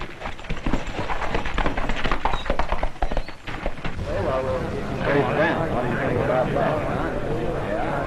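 Horse hooves clip-clop in a quick, irregular rhythm in a 1940 Western film, and voices break in partway through as the hoofbeats give way to speech.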